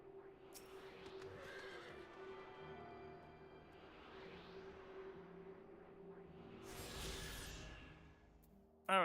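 A horse in Final Fantasy XIV Endwalker neighs twice, drawn-out whinnies several seconds apart, over a faint steady game ambience with soft hoof sounds, no talking.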